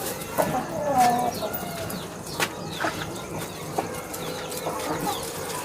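Chickens cluck and call in a poultry yard, with short repeated clucks and chirps at moderate distance over a quiet outdoor background and someone talking now and then.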